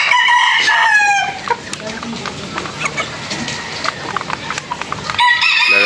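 Chickens and a rooster on a backyard poultry farm: a loud rooster crows at the start and again at the end, with scattered clucking and yard noise between, while a person talks throughout.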